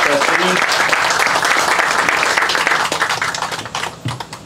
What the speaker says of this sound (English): Let's give a round of applause for our Board of Trustees.